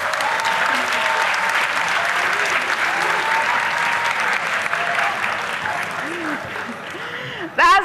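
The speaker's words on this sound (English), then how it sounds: "Please clap for math consultants." An audience at a school quiz competition claps steadily and evenly for several seconds, the applause fading slightly before a voice cuts in at the very end.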